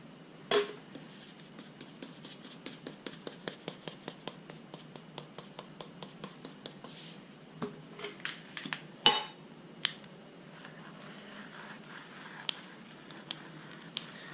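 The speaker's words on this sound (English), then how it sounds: "Using an old Turkish coffee grinder here with the red chili flake inside." A rapid series of sharp clicks and cracks from an old hand-cranked Turkish coffee grinder crushing red chili flakes, steady at first, then sparser, irregular snaps near the end.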